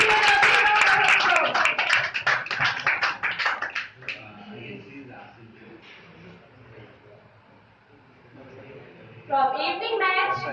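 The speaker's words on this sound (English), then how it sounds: "Please give her a round of applause." Applause at a school prize distribution for a Star of the Week award: a burst of clapping opens the moment, fading into quieter room noise and chatter, with a second swell of clapping near the end.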